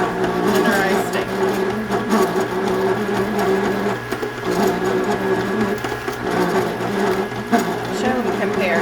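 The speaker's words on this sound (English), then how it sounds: "he drops it in there, and he turns it halfway and crisscrosses it, and then it makes a nice tenderized steak" A meat tenderizer machine runs steadily as a beef steak is fed through it, with a dense mechanical whirring and rattling that continues without a break throughout.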